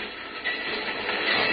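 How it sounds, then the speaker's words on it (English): A train passing as a sound effect in an old-time radio drama: a steady, band-limited rushing rumble with soft rhythmic clatter, building slightly louder over the short span. "I'll lie low till the train goes past."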